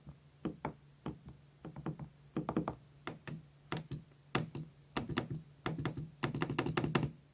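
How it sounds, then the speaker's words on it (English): An MSI Stealth 16 laptop rattles under irregular taps and clicks, a string of sharp, hollow knocks and clacks close up with uneven rhythm and gaps between bursts. "The Stealth just rattles a lot when you tap or click on it."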